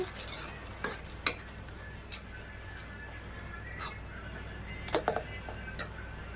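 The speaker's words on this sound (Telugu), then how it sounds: "ఇందులోకి యాలక్కాయ పౌడర్ అండి, ఒకసారి కలపండి" A spoon stirs carrot halwa mixed with cardamom powder in a pan, making intermittent scraping strokes and soft knocks over a faint sizzle, close but quiet, with no talking.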